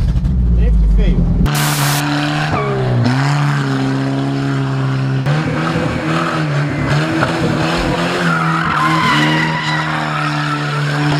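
A Chevrolet Chevette drifting, its tires skidding in a loud, sustained squeal over the droning engine, with a sharp burst at the start and the wavering screech continuing close up throughout.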